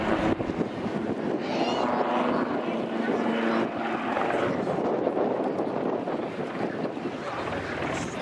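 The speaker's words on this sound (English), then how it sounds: "As the speed bleeds off, the aircraft will come into the hover" A Royal Navy Wildcat HMA-2 helicopter slows into a hover at the RAF Cosford airshow, a steady roaring rotor and turbine wash heard at a distance, with heavy wind buffeting the microphone throughout.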